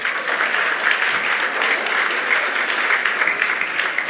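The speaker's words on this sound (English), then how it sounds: "A round of applause for her" An audience at a hospitality seminar applauds steadily, a thick continuous patter of many hands at even loudness with no voices over it.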